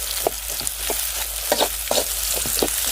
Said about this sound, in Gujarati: આ ડુંગળી શેકી નાખવાની